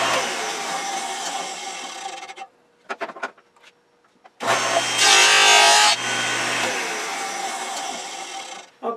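A 1.5-inch square piece of wood, cut to length for a turned screwdriver handle, is sawn with a loud, steady rasping noise, paused by a gap of clicks and knocks before a second, stronger cutting run.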